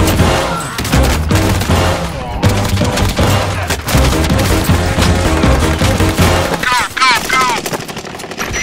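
Loud, rapid automatic gunfire in a video game, bursts of shots rattling almost continuously with brief gaps, then whistling ricochet-like sweeps near the end.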